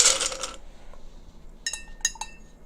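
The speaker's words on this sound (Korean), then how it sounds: "네, 얼음 소리입니다." Ice cubes clinking for a cup of Earl Grey tea: a dense rattling burst at the start, then a few separate bright clinks after a pause, close and fairly loud, with no talking.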